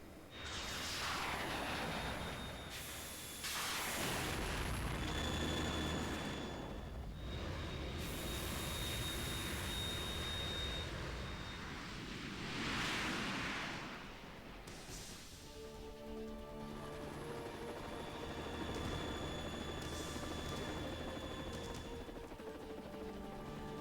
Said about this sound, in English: You have to shoot the Harrier down.